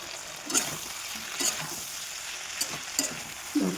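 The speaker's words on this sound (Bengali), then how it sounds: "সিমগুলো দিয়ে দিলাম, ভালো করে কষে নেব।" Broad beans stir-fried in a pan with green chillies, salt and turmeric give a soft continuous sizzle, punctuated by several sharp utensil scrapes and clinks.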